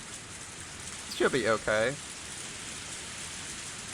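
Steady, faint rain hiss from the Higurashi Matsuribayashi visual novel plays throughout, with a short spoken line heard over it partway through.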